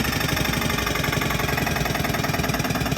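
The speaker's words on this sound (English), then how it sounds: "Put the air on. And then the hydraulic pump." A JWI 2.5 cubic foot air/hydraulic filter press runs its hydraulic pump, giving a loud, steady mechanical drone with a fast pulsing throb, close up and continuous, with no talk over it.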